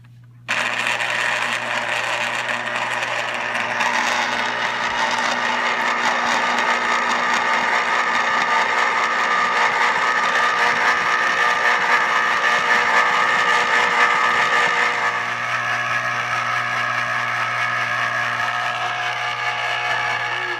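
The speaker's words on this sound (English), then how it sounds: "Now I'm gonna juice the lemons on a juicer." Electric juicer pressing lemons for homemade lemonade, a steady loud motor whine with a low hum that runs unbroken for about twenty seconds, dipping slightly near the end.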